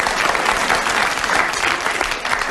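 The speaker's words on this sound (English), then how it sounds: "she was waiting for a round of applause" A studio audience at a radio panel game breaks into loud, dense applause, a continuous wash of clapping throughout with no pauses.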